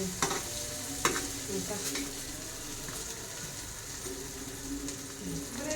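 Cumin and mustard seeds frying in a pan, a continuous soft sizzle with a few sharp spoon taps and faint background voices.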